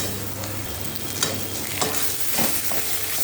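Mutton mince frying in oil in a pan with chana matar being added, a loud, continuous close sizzle with scraping stirring strokes throughout and no voices.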